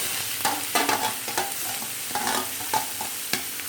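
Grated raw papaya fried and stirred in a pan, with a spatula scraping in an uneven rhythm over a constant loud sizzle, close up and with no voices.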